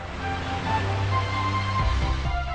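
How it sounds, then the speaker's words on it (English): Waves lapping against the hull of a sailboat cruising a Pacific coastline, a steady close wash of water with low rumbling surges and no voices. "The gentle lapping of waves against the hull"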